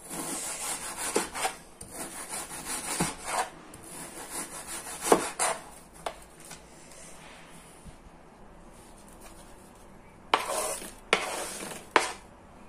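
A knife slices partly frozen fish into small pieces on a board, making a series of close, scraping and rasping cuts in irregular bursts. Quieter pauses separate the bursts, and a few sharp cuts come near the end.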